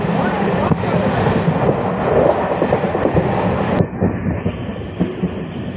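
A passenger train runs steadily along the rails at speed between stations in West Bengal, India, with a loud continuous rumble and clatter of the carriages, close and unbroken, and a brief sharp squeak partway through.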